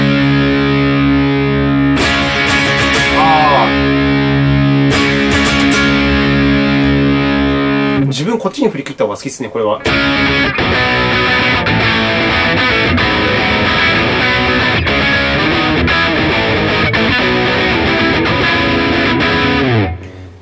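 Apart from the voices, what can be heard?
electric guitar through XTOMP mini distortion effect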